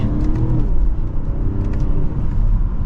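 A 2023 BMW 540i M Sport accelerating gently at quarter throttle gives a loud, steady engine rumble and road whir heard from inside the car, with no talking.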